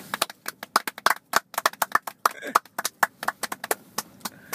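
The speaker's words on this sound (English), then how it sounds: "Can we get some applause?" A small audience in a studio claps for a live interview, sparse, distinct hand claps arriving unevenly from only a few people, close and fairly crisp, with a brief voice-like sound in the middle.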